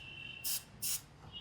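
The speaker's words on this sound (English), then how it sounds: "spray some cleaner on the side stand as well" Cleaner sprayed from a bottle onto the side stand of a Royal Enfield Himalayan 450 motorcycle, two short sharp hissing bursts in quick succession, fairly close, with a faint steady tone underneath and no talk.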